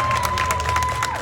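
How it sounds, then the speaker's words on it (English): A small audience gives a brief, loud burst of clapping and light cheering that lasts about a second. "You guys can applaud for that if you'd like."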